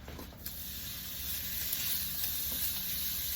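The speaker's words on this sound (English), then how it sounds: "So now we're going to cook the sausage." Sausage frying in a pan for a dirty rice and Creole sauce meal, a steady close sizzle and hiss with faint utensil clinks, no talking.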